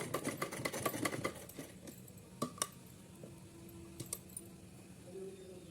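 A sewing machine double-stitches a cotton choli with a rapid, clattering needle run at first, then gives way to sparse clicks and taps, close and fairly quiet.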